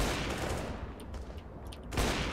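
Rapid gunfire in CS:GO rattles through a dense wash of game noise, with a few sharp bursts and a loud shot near the end.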